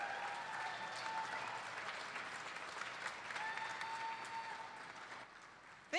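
Audience applause greets a performer at an outdoor Americana music festival stage in an archway in Brooklyn, a steady, fairly distant wash of clapping that holds for several seconds.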